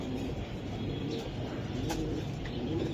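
A male racing pigeon coos softly amid a busy market background, low and steady under general noise, with no clear talking.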